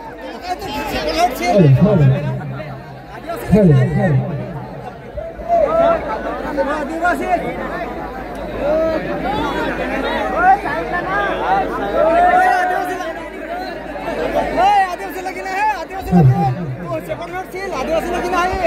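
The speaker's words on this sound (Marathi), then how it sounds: "कारण प्रचंड गर्दी आहे" Large crowd chattering at a wedding stage show, a dense, loud hubbub of many voices that swells and dips, with a few sharper shouts and music-like tones rising above it.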